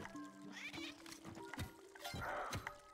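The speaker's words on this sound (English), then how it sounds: "There's no reason not to take this cat." A cat in the Spelunky video game gives a few brief meows that are hard to pick out under busy game music and clattering effects. Everything plays quietly.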